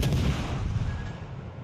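Heavy battleship gunfire in the naval combat game World of Warships Legends, a loud booming salvo with deep rumbling low end that decays steadily over about a second and a half, with no talk over it.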